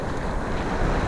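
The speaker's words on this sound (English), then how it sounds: "here we're taking a walk along the beach" Caribbean Sea waves wash along the beach at Tulum, Mexico, a loud, steady roar of surf with wind buffeting the microphone throughout the brief stretch.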